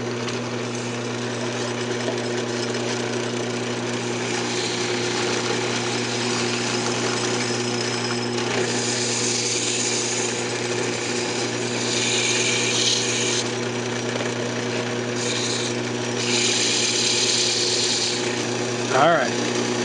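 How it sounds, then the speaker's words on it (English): A wood lathe spins steadily while a turned wooden flower is sanded on it, giving a continuous low hum and a dense rough whir, with brief bursts of scratchy sanding noise coming and going. "I'm just going to sand it up, and as you go through sanding it, you know, just stop the lathe"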